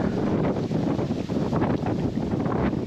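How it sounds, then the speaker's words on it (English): Wind picks up across an open fishing lake during a summer league carp match, a continuous loud low rumble buffeting the microphone with surging gusts and no talking. "can hear that wind picking up."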